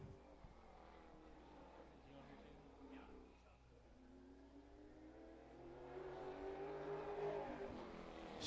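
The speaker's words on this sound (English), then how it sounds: "Very quiet car out there on the racetrack." Pro late model race car running on a short track during qualifying, its engine a steady, fairly quiet drone that swells louder near the end, with talk over it throughout.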